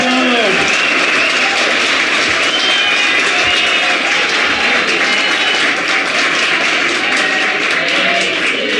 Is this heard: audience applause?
yes